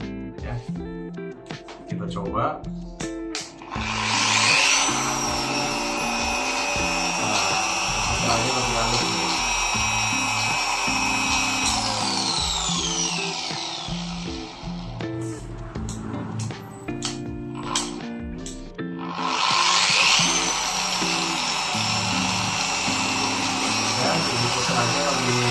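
A Shinemate EX 605 dual action polisher runs loud and close with a steady whirring drone. The pitch rises and falls, and the motor briefly eases off near fifteen seconds, then revs hard again around twenty. Background voices and handling noises come through underneath.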